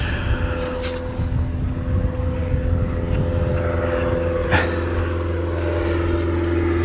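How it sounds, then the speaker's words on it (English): A propeller aircraft drones steadily overhead at a fishing lake, a continuous low engine hum with a faint breeze in the background. "Aeroplane going over."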